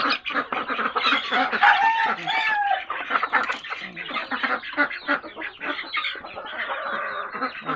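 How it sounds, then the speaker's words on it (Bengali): A flock of chickens clucks and squawks busily while being fed, close by and loud, with overlapping calls and a few higher cries, continuous throughout and with no talking. "মুরগিগুলো খেতে দিয়ে দিব, দেখবেন কীভাবে খায়।"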